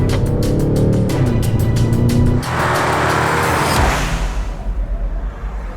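A 2020 Land Rover Defender with a 240 hp engine accelerates hard, a steady, loud engine roar climbing in pitch before easing off and fading in the last seconds.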